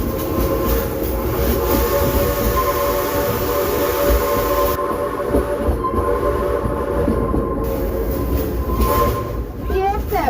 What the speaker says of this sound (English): That whistle was just for you.